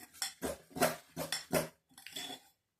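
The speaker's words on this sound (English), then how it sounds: "then mix this together. I find a fork easier than a spoon" A fork stirs coconut macaroon ingredients in a bowl, making about six close, rhythmic scraping and clinking strokes over a couple of seconds before stopping.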